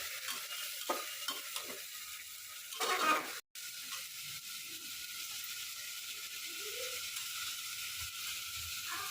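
Cauliflower, peas and other ingredients stirred in a pan, a scraping, sizzling stir with a louder burst of clatter partway through, then a quieter steady sizzle with occasional light scrapes.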